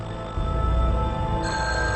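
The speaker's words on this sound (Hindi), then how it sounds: "फोन।" A telephone rings indoors in a drama scene, a steady electronic ringing tone that continues unbroken for a couple of seconds.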